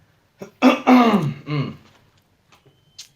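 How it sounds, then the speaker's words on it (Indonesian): A person coughs and clears their throat close up in a quiet room during a formal discussion, with a few rough throaty bursts grouped in the first two seconds and a faint short hack near the end. "Batuk. ya batuk."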